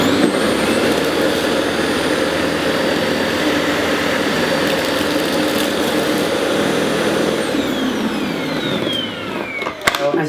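A Dyson Light Ball upright vacuum cleaner runs loud and close with a steady high whine and airy roar, its pitch dipping slightly as it is pushed and pulled across a floor near the end.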